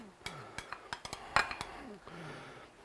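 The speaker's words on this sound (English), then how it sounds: "I'm going to add my carrots and my celery to that." Carrots and celery tumble into a cooking pot for a chicken and biscuit casserole, giving a string of close, sharp clinks and knocks against the pot, with a soft stirring scrape at the end.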